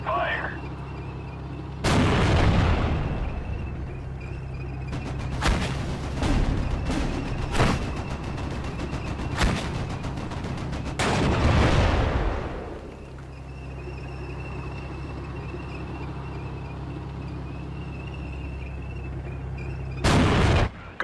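Tank cannon fire and explosions from the WWII strategy game Steel Division: Normandy 44, a loud booming blast followed by several sharp shots and a second big rumbling burst, with a final boom at the end over a low steady engine hum.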